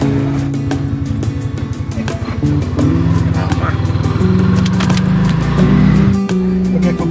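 An auto rickshaw ride heard from inside, with a small engine's close, buzzing drone and rhythmic putter that shifts pitch as it accelerates, plus muffled voices in the cabin.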